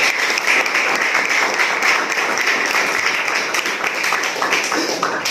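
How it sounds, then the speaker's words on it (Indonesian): A church congregation bursts into applause during a sermon, many hands clapping in a loud, crackling roar with sharp individual claps poking through, holding steady throughout and slightly uneven near the end. "Tepuk tangan untuk Tuhan."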